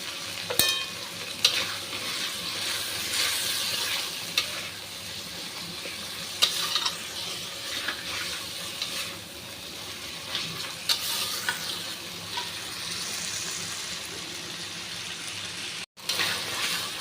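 Peanut paste with salt and turmeric sautéing in oil makes a soft steady sizzle, with occasional scrapes and clicks from stirring, heard close and moderately quiet throughout.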